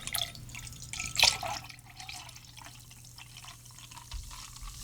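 Light beer is poured into a mixed drink and starts bubbling, with a sharp splash early on, then a soft, close liquid trickle and fizz in a quiet room.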